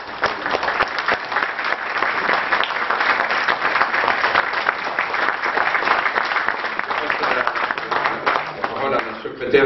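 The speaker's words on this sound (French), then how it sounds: "on peut l'applaudir quand même" A dense, steady wave of audience applause for the general secretary fills a Peru Libre political meeting, many hands clapping continuously and loudly from start to finish, with a voice surfacing near the end.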